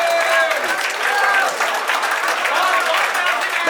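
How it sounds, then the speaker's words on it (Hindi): An audience at a poetry recital breaks into dense, sustained applause, loud and even from start to finish, with voices mixed in. "जोरदार तालियां हो जाए।"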